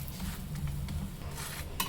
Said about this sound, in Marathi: असं आपल्याला थोडंसं कढची प्रेस करत इथं आपल्याला हे पराठा भाजून घ्यायचं आहे